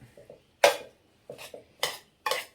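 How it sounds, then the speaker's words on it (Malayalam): Biryani rice and ingredients being mixed with a metal spoon in a pot, giving four separate clattering scrapes in an irregular rhythm, close and moderately loud, with no voices. "അവനെ കുറേശ്ശെ എങ്ങോട്ട് നല്ല പോലെ ഇളക്കി എല്ലാം കൂടെ അങ്ങോട്ട് മിക്സാക്കി എടുക്കണം"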